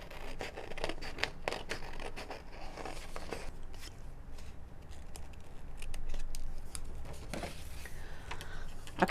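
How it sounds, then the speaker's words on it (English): Scissors cutting out a thick cardstock shadow puppet figure, with a close, repeated series of crisp snips and rustling paper at an uneven pace, alone without talk. "And then I'm going to cut him out again."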